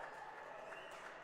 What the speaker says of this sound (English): Crowd goes wild.